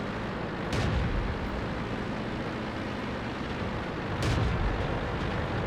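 Tank cannon fire in World of Tanks from an M41 Walker Bulldog battle against a Jagdpanther 2: two heavy, booming shots a few seconds apart, each a sharp crack over a constant rumbling engine-like drone, with no speech.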